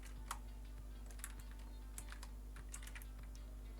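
Quick, light keystrokes tap on a computer keyboard in short irregular bursts, faint and close, over a low steady hum with no talking.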